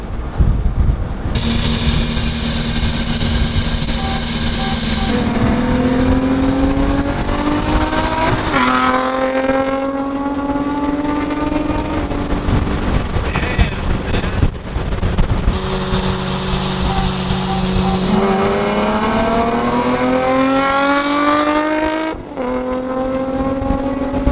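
Supercharged Infiniti G35 coupe engine revving loud and close, pulling through gears with rising pitch, brief drops between shifts, and a second strong pull after a lift; steady engine noise throughout.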